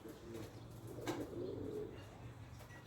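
Young male pigeon chick at a pigeon auction, soft low cooing murmurs close by over a quiet background hum, no talk.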